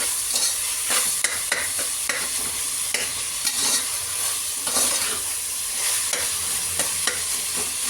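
Onions sautéing in a pan for mutton biryani: a steady close sizzle and hiss runs throughout, broken by repeated sharp scraping strokes of a spoon stirring against the metal.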